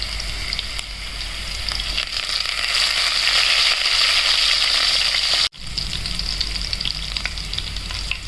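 Garlic and coriander fry in hot oil with cumin for a yogurt kadhi tempering, making a loud, steady crackling sizzle that cuts out abruptly for a moment and then resumes.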